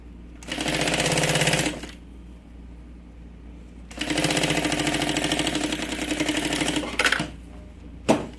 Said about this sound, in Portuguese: rente e costuro com um pé de máquina